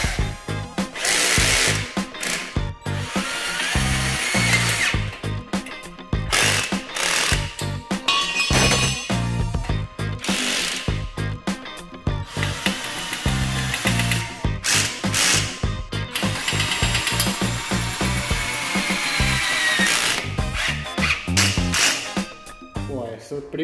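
A power drill drives screws into metal tubing for an outdoor metalon sofa built without welding, in repeated loud whirring bursts with clinks of metal between them, and someone talks intermittently.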